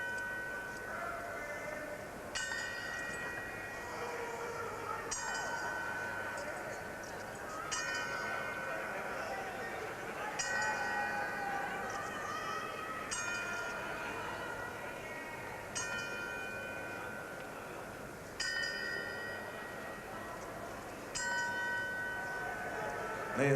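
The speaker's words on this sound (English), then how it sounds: "they're tolling the 10-second bell." A boxing timekeeper's bell tolls the ten-count in tribute at a fight: evenly spaced ringing strikes about every two and a half seconds, each leaving a lingering metallic tone, over a low, murmuring arena crowd.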